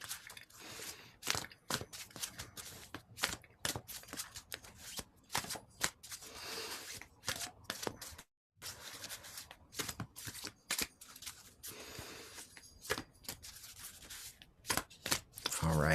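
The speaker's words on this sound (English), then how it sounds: "I will feel that energy as I shuffle the cards" A deck of cards is shuffled by hand during an evening meditation session, giving repeated quick riffling bursts and soft slaps that run close and fairly quiet for the whole stretch, with only a brief pause.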